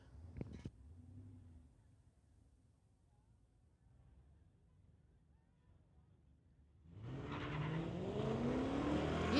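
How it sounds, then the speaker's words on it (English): Street legal drag race between a 1995 Ford and a 1964 GTO: a low distant rumble of idling engines, then cars launching and roaring loudly as they accelerate away over the last few seconds. "1995 Ford going against Dean Darrett, 1964 GTO."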